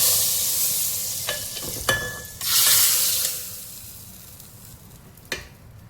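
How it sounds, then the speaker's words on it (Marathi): A hot cumin, mustard seed and curry leaf tempering is poured into cooked dal, giving a sudden loud hissing sizzle that swells and fades over a second or so, framed by a few utensil clinks. "मी जिरा मोहरीचाच तडका दिलाय कढीपत्त्याचा तर इकडे डाळीमध्ये टाकूया"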